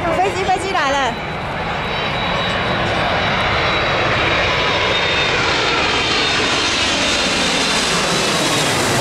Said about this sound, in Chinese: 飞机来了